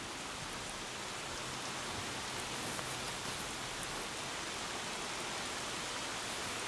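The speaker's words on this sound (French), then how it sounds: "Il pleut sans discontinuer depuis 6 jours." Steady rain pours without letup during a long stretch of flooding, a dense, even hiss of drops on the ground that stays constant throughout with no voices.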